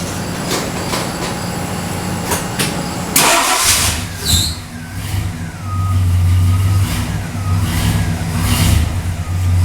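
The V8 of a 1964 Ford Galaxie 500 with a new exhaust cranks with a few rhythmic clicks, then catches and settles into a steady, deep idle rumble heard up close.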